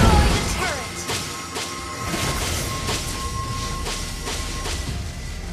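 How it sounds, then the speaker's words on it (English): A turret is destroyed in Mobile Legends with a loud crashing smash and whooshing debris, dense game effects and music layered throughout. "Your team destroyed the turret."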